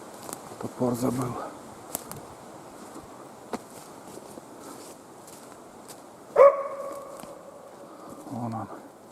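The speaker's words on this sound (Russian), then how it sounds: "Тулан кого-то лает, ребят." Dog named Tulan barking in the taiga near a forest hut, a few distant barks scattered among faint outdoor ambience and soft voices, with one sharper bark standing out midway.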